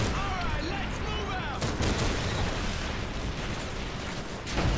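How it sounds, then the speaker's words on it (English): Grenade blast in Call of Duty 3 on PS3, a loud, dense wash of explosive noise and battlefield gunfire that fills the whole stretch, with voices under the din. "Grenade."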